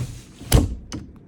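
A bathroom door in a Hymer Eriba caravan slides shut, giving one sharp knock with a short rumble and then a lighter click about half a second later, close and alone.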